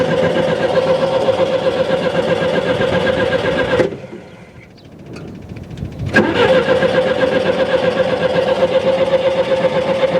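A skid steer's engine runs loud and steady close by, cuts out for about two seconds, then catches and roars back to a constant running drone.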